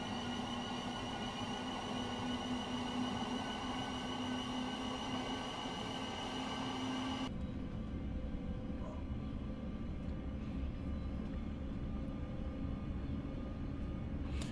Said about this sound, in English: This train sounds really quiet.